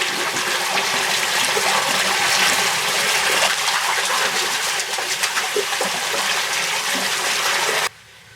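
Water pouring and splashing steadily into a fish pond on a fish farm as it refills with the outlet closed, a loud, continuous gushing stream that cuts off abruptly near the end.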